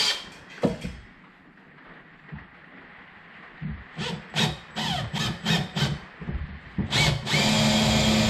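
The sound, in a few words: power drill drilling fiberglass top box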